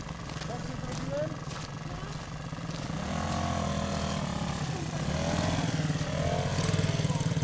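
Motorcycle riding off-road through mud after a downpour, its small engine droning and revving up over several seconds, growing louder toward the end while people talk over it.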